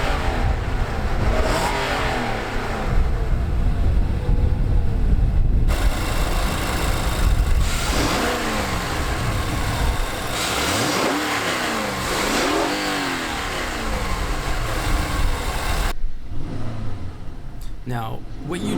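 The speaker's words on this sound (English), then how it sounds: "Now, what you just heard was the engine." A 2016 Infiniti QX80's 5.6 liter naturally aspirated V8, heard close and loud, starts up and revs repeatedly, with rising and falling engine sweeps before it settles to an idle.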